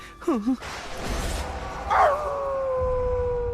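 A dog howls in a long, wavering cry that rises and then holds a steady drawn-out tone, with a few short yips at the start and some background noise.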